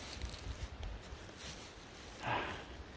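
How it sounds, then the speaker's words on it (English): Wind rushes through a wood above a steep valley as a soft, steady broadband hiss, rising into a louder gust near the end. "Listen to the wind."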